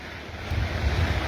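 Floodwater rushes down a swollen river on farmland after a cloudburst: a steady, broad roar of churning water that grows louder and heavier about halfway through, with wind buffeting the microphone and no voices.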